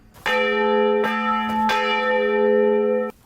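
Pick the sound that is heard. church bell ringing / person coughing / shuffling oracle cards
church bell ringing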